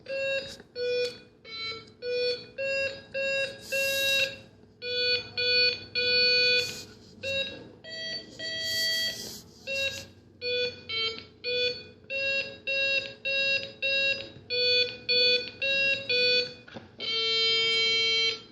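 Snap Circuits electronic kit beeps out Mary Had a Little Lamb as a series of bright, buzzy electronic tones, played one note at a time in a steady rhythmic sequence.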